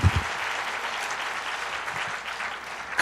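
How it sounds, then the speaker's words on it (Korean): An audience at a Korean political gathering breaks into applause, a dense, sustained clatter of many hands clapping at a steady level for a few seconds. "박수하겠습니다"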